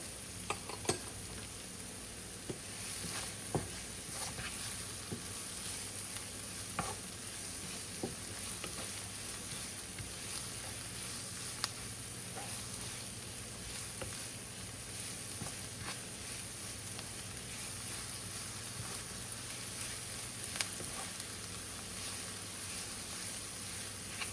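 Garlic frying in a pan for a dish of ampalaya with shrimp, a continuous close sizzle with occasional small pops and utensil clicks throughout.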